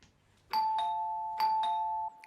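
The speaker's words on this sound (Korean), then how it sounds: "곧이어 초인종이 울리고" A doorbell rings twice in an apartment, each press giving a clear two-tone chime with a sustained tone ringing on between and after the presses, close and alone in a quiet room.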